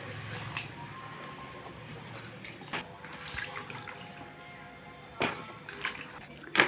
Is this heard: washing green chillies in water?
yes